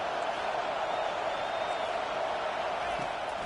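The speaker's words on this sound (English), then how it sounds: "how nice is it to have the home crowd going absolutely bananas?" A home stadium crowd roars steadily at a Georgia versus Boise State college football game in a video game, a dense, continuous wall of distant cheering without breaks.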